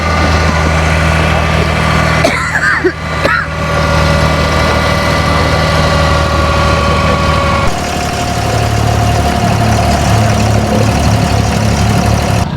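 An abra boat's engine idles with a loud, steady low drone while crossing Dubai Creek, vibrating continuously up close, as a voice talks over it partway through.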